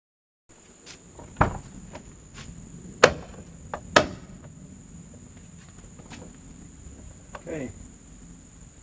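Several separate knocks and clunks from a Bitter SC car's doors being opened and shut, irregularly spaced with quiet gaps between them, close by and with no talking.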